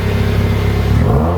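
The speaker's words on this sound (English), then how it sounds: "Really like how this exhaust sounds." A 2015 Subaru WRX with an upgraded exhaust revs hard, a loud, steady engine roar with deep low rumble rising slightly in pitch toward the end, close and alone without talk.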